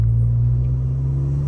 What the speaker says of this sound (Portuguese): Aí, ó, como veio passando na lombada.